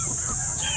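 Farm chickens cluck in a brief, dense burst of noise, with a constant high hiss running underneath.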